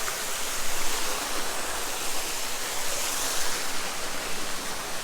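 A waterfall at a botanical garden pours with a constant, dense broadband rush, close and steady for several seconds, with no talking.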